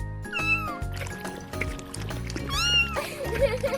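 A cartoon cat meows twice in rising, bending calls over bouncy background music, with a voice speaking around them.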